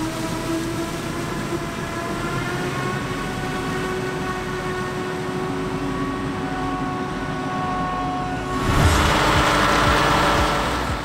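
A 1989 tractor with a retrofitted turbocharger and 12,000 operating hours, used for forestry work, drones steadily with a whining tone, then swells louder and rougher near the end, with no voices.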